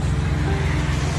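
A 2021 Ford F-150 PowerBoost hybrid with a 3.5-liter engine and a Black Widow Widowmaker exhaust rumbles at a steady low idle, close and unbroken.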